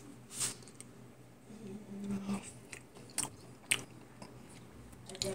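Bites and crunchy chewing of a forkful of bacon with potatoes, eggs and sour cream, a few distinct crunches at irregular intervals, close and fairly quiet with no talking.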